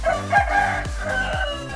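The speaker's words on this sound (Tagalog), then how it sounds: "Ingay-ingay mo itong manok na to." A rooster crows loudly and nearby, its strained, pulsing call repeating in short rhythmic bursts with no talking.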